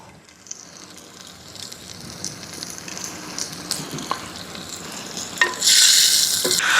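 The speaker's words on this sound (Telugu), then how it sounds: "టమోటాలు ఇలా వేగుతున్నప్పుడే" Tomatoes frying in a pan for village-style tomato rice give a steady soft sizzle with scattered stirring clicks, then a louder hiss swells near the end as something new goes into the hot pan.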